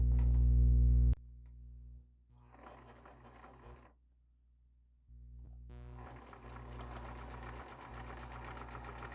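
A sewing machine stitching a French seam, with mechanical whirring runs that stop and restart, separated by brief pauses, close and moderately loud.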